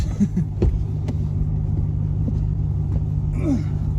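A 2022 RAM TRX pickup truck being driven, heard from inside the cab as a steady low engine and road rumble with a faint hum, plus a few light knocks and rustles, and no voices.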